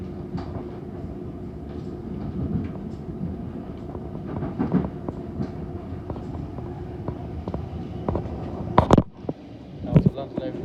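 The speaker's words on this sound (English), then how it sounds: "Now to London Overground Class 378 bound for Highbury and Islington from West Croydon" A London Overground Class 378 electric train runs along the line, a steady low rumble with rhythmic clicks and clacks and a few sharp knocks, heard from on board with voices talking over it.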